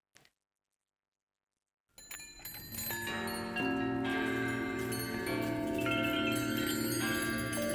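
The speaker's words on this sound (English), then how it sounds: "sounds of bells from around New York, from a cat bell to a church bell to many, many bells" After a moment of silence, many bells from around New York begin ringing together, from cat bells to church bells, layered chimes and tolls building into a dense, sustained metallic wash.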